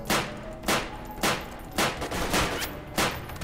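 Hip-fired gunfire in the video game The Forgotten Ones, sounding as six sharp, loud bursts spaced roughly half a second apart, each with a short rattling tail, and no voices.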